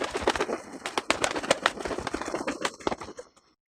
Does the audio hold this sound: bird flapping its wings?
yes